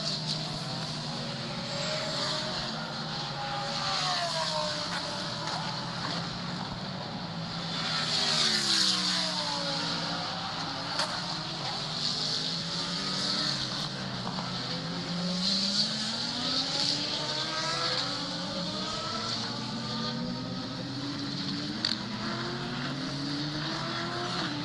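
Race trucks roar past one after another at a Charlotte truck race, with engine pitch rising and falling through repeated distant-to-near sweeps over a steady crowd and track rumble.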